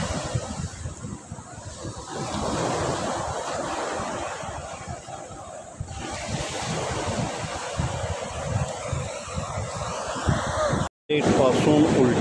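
Sea waves wash continuously at Sagareshwar beach in Vengurla, Konkan, a broad roaring surf mixed with wind buffeting the microphone and people talking over it, ending in a brief dropout.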